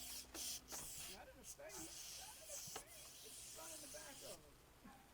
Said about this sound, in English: Alright, I guess I gotta spray me down.